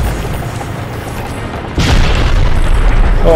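An enemy tank fires in the video game Crysis Remastered, a sudden loud boom cutting in midway over an already heavy, rumbling battle background that stays loud afterward; no speech is heard.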